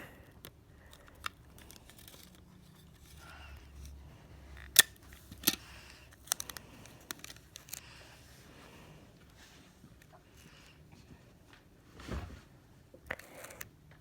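Scissors snip off excess tape while a marble mesh fidget toy is being made. A few sharp, isolated cuts stand out among soft crinkling and handling noises in a quiet room.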